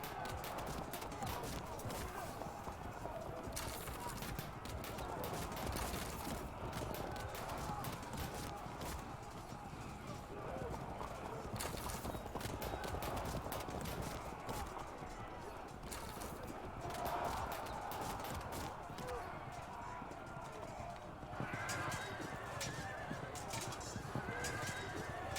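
Horse archers galloping across a battlefield in the strategy game Field of Glory 2, a steady dense wash of hooves, whinnies and battle noise running continuously throughout, with a voice talking over it.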